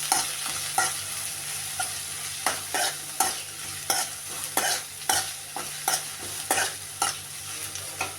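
Onion and green chillies stir-fry in a pan, a soft steady sizzle punctuated by regular spatula scrapes and taps roughly every half second, with no talking.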